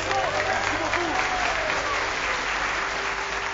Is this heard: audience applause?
yes